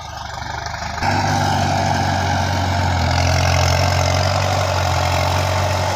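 A Kubota M9000 tractor's diesel engine runs with a deep, steady rumble, swelling louder after a second and then holding constant close by.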